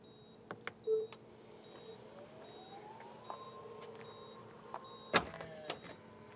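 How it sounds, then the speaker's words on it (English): Power rear trunk on a Tesla Model 3 Highland closing: a soft motor whine rising in pitch, repeated electronic beeps, then a sharp latching thunk near the end, heard up close with no talking. "You simply close the rear trunk by pressing this button, and it has a new sound over the older Tesla Model 3."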